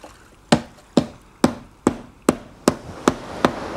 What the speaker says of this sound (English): These are paintings constructed with a hammer.